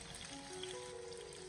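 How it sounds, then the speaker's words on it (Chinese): Tofu slices pan-frying in a little hot oil over low heat give a soft, steady, continuous sizzle throughout, fairly quiet and close, with no talking. "用小火给它慢慢的煎制"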